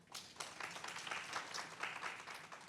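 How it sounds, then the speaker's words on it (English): Attendees at an education retreat forum clap for an award recipient, a scattered, uneven round of applause from a modest crowd, fairly faint and fluctuating. "Round of applause, please."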